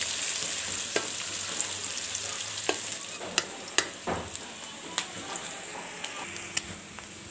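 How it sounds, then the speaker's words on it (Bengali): Onions, green chillies and garlic fry in a pan under a steady sizzle, with sharp, regularly spaced clicks as a spoon stirs and taps the pan. "দিয়ে আমি একটু নেড়ে চেড়ে আবার পেঁয়াজ আর রসুনটাকে"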